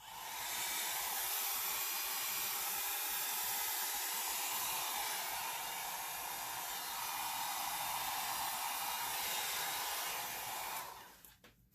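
A heat tool dries alcohol ink on paper, blowing a loud, steady whooshing roar close to the microphone for about eleven seconds before it cuts off.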